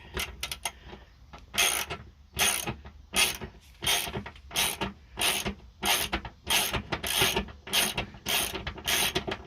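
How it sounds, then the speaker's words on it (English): A socket wrench with a 13 mm socket ratchets a nut off the parking brake of a Ram Promaster van, giving bursts of rapid clicking in a steady back-and-forth rhythm, close and fairly loud, with no talk. "Okay, I finally found the right socket. It's a 13 millimeter."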